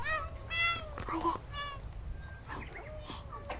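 Several cats at a feeding spot on a cat island meow in quick, overlapping calls, close and clear over a soft outdoor background.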